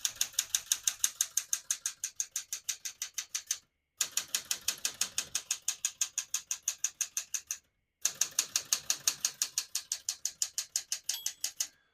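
A 1973 Smith-Corona Galaxie 12 manual portable typewriter clacks in three quick runs of evenly paced keystrokes, with a brief pause between each burst.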